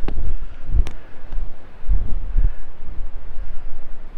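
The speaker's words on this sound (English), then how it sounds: "it's very windy at this end." Strong wind gusts buffet the microphone at the exposed north end of Lundy Island, a steady low roar with heavier thumps near one and two seconds, loud and close, with no talking.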